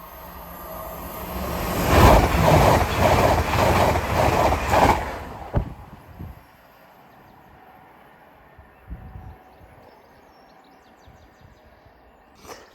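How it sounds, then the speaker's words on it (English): A TransPennine Express train bound for Liverpool Lime Street rushes through a level crossing, a loud rumble with rhythmic wheel beats for about four seconds, then it cuts off abruptly and leaves faint ambient sound with a few distant knocks. "Next service pass through is a Transpen Express service off to Liverpool Lamb Street."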